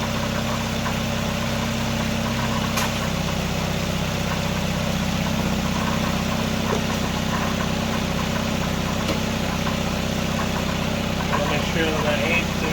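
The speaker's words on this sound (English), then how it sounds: "Let me turn off the engine." A 1999 Nissan Sentra 1.6 engine with the EGR removed idles steadily with a low, even rumble throughout, a few faint clicks and rustles on top.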